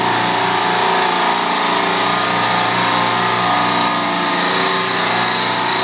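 A refrigeration compressor suction group with a Discus Digital 3D retrofit runs nearby as a loud, steady mechanical drone, with no talk over it.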